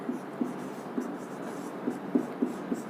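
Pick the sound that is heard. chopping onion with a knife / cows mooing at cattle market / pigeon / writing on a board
writing on a board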